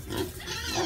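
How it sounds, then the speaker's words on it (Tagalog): Pigs at a backyard pen grunting in short, low, rough bursts, fairly close and moderately loud against a noisy background, with no clear talk. "Kanyang mga baboy."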